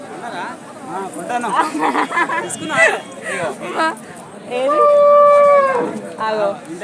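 A single long, drawn-out cow moo rises over a crowd of people talking at a livestock market in Husnabad, with steady chatter before and after.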